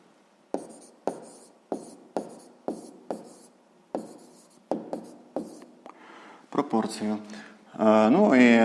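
Pen writing on paper while working a sixth-grade math exercise on proportions: a steady series of short scratchy strokes close by, followed by a person speaking at the end.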